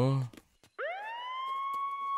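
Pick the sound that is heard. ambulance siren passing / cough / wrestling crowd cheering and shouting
ambulance siren passing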